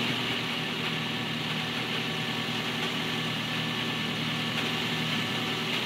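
A car engine idling at 1100 RPM gives a steady, unbroken mechanical hum with a faint rattle. It stays close and even throughout, with no talking.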